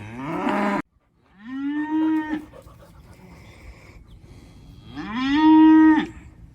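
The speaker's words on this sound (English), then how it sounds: "All the mini cows want to say hi." Mini cows on a farm give two loud, drawn-out moos close by, separated by a quieter stretch with faint farmyard noise.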